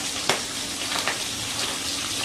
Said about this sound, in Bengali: তেলের মধ্যে ছেড়ে দেবো। আমি দুটো করে পাবদা মাছ ভেজে তুলে নেব।